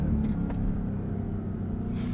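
A 710-horsepower 2023 Dodge Durango SRT Hellcat three-row SUV launches at full throttle from a brake-held start on a slight uphill, heard from inside as a steady, loud low engine rumble and roar that holds for about two seconds.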